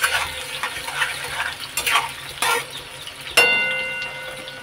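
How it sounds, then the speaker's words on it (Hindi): Chopped onions fry in a pan with spices until golden brown. A soft sizzle runs underneath scattered stirring scrapes and clinks, and a sharp metallic ring sounds near the end. "अब हम इसे गोल्डन ब्राउन होने तक फ्राई कर लेंगे।"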